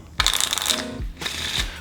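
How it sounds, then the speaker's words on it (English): A deck of playing cards gets a thorough shuffle for a card trick, heard as two close, crisp riffling bursts separated by a brief pause. "They lose it in the pack, and you give it a thorough shuffle."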